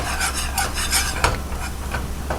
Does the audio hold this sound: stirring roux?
yes